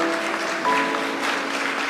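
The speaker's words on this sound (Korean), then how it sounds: "뜨거운 박수 부탁드리겠습니다" A Teachers' Day ceremony audience applauds award recipients, an even, continuous patter of clapping with a faint sustained tone underneath.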